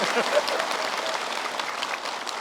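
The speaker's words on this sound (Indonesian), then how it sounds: "Boleh tepuk tangan buat saya" A studio audience claps steadily in a continuous wash of applause that holds at an even level throughout.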